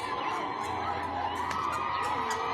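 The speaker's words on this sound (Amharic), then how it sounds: "ህዝቡ እየጮኸ ነው በጣም።" A crowd of people shouting loudly outside a school in Mekelle as young people are rounded up, a steady dense roar of many voices with scattered higher cries throughout.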